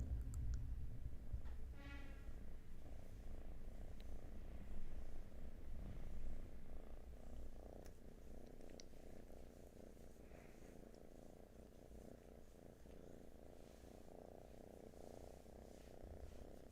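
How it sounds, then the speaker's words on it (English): A kitten purrs and snores softly and continuously, close by and very quiet, with a steady low rumble throughout. "Don't know if you can hear the kitten snoring."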